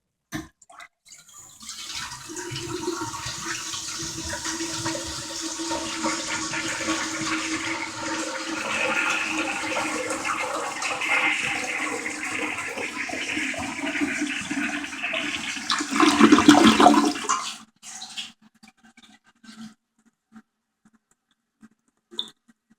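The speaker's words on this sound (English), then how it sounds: "So here's one last flush. I'm gonna hold down the handle." A Kohler Pompton toilet flushes with the handle held down, giving a long rushing swirl of water that lasts about fifteen seconds, swells near the end and then cuts off to quiet refill trickles.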